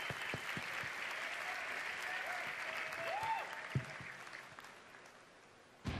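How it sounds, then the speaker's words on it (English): A room full of people at the BlizzCon 2011 Diablo 3 Q&A panel claps steadily for several seconds, the applause fading toward the end with a few stray thumps. "Everybody give them a round of applause."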